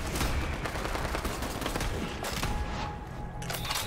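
Dense, continuous gunfire from the shooter game Borderlands 3, rapid overlapping shots and bursts filling the whole stretch loudly, with no voices over it.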